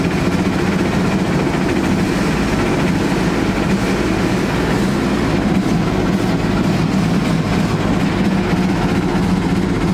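A Chevrolet Blazer with the 4.3 engine held at full throttle gives a loud, constant, rattly roar without letup.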